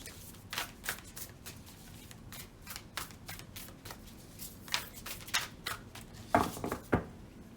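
A deck of tarot cards is shuffled in a series of soft riffling and slapping bursts, quiet and close, with short gaps between them and a few louder snaps toward the end.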